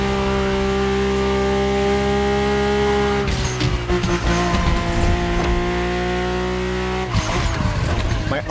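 A Mercedes-AMG One hypercar drives hard in The Crew Motorfest, its engine holding a loud, high, steady whine that shifts pitch twice amid bursts of tire noise.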